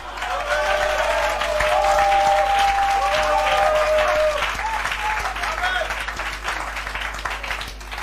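A church congregation breaks into loud, full applause that builds quickly and then slowly thins, with raised voices and cheers mixed into the clapping.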